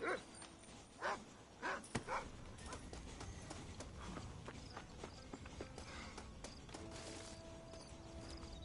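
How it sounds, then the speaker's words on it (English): A dog barks in Red Dead Redemption, a few sharp yaps early on, followed by scattered footsteps and hoof-like thuds, all fairly quiet and with no talking. "Oh wait, that's not a deer, that's a dog."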